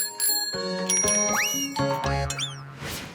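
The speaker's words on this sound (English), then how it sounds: "I loved finding out how bike bells work." A bicycle bell rings repeatedly in quick bright dings, with metallic pitch bends and springy boing-like tones, close and clear.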